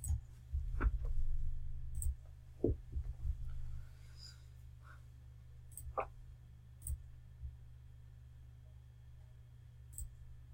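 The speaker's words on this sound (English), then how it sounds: "I choose the deploy option, right click on the project and click on deploy." A computer mouse gives sparse, quiet clicks at irregular intervals over a low steady hum, with a brief soft murmur near the start.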